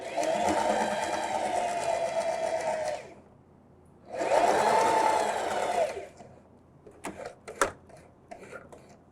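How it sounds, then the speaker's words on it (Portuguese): Sewing machine stitching the border of a dish towel: two loud, close runs of steady motor whir separated by a short pause, followed by a few clicks and handling knocks. "baixar o pé calcador, baixar a agulha, iniciar, retrocesso e agora eu vou costurar."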